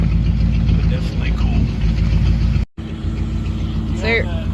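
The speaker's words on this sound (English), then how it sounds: "So we were just commenting on how good the engine sounds." The engine of a 1952 Ford F4 truck idles steadily, close by and moderately loud, with a brief dropout partway through and faint voices over it.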